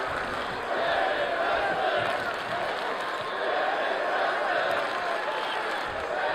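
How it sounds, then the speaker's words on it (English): A large virtual arena crowd in the WWE 2K23 wrestling video game chants and roars in a dense, continuous wall of sound, steady and loud throughout with rhythmic swells. "Listen to that crowd chant."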